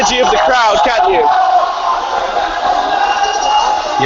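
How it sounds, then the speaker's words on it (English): A large crowd of protesters on a Hong Kong street roars and chants in a festive mood, a dense wash of shouting voices that swells early, then settles into a sustained distant cheer. "You can feel the energy of the crowd, can't you?"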